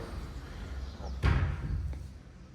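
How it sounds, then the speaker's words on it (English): A newly installed sliding door is pushed shut, ending in one loud thudding slam near the middle over faint room noise; it fails to close fully. "Sliding door."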